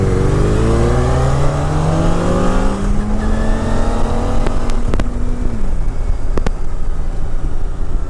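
A Triumph Speedmaster motorcycle engine revs loudly and continuously, its pitch rising steadily as it accelerates, then dropping and settling into a sustained roar, up close with wind noise and a few sharp clicks.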